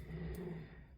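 A dog growls low and close in an indoor room, a short rumbling snarl that holds steady for most of the moment with no talk over it.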